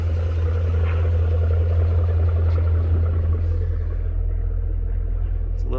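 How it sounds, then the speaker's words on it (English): A 2004 Chevrolet Corvette showcar with a Billy Boat exhaust idles with a deep, steady, close-up rumble that stays constant throughout. "This Billy Boat exhaust sounds so good too."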